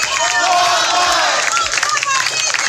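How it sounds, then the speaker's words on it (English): Walmart employees chant the company cheer together in a store, a dense crowd of voices shouting in unison over steady babble, with some claps and cries mixed in. "It is still mandatory for Walmart employees to recite the company cheer once a day in all of their stores"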